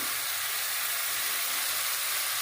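Tomatoes go into a hot pan while making Gujarati green pea sev usal over a medium gas flame, giving a steady, loud, broadband sizzle that runs unbroken throughout.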